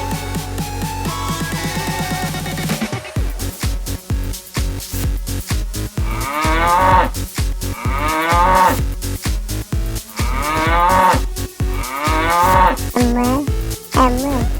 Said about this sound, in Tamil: மாடு சத்தம் மாதிரி கேட்குது